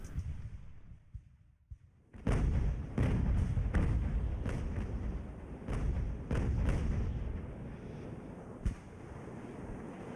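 Naval cannon broadsides from Ultimate Admiral: Age of Sail boom in a rapid irregular volley of about a dozen heavy shots after a brief quiet opening, each blast loud and close over a rumbling battle din.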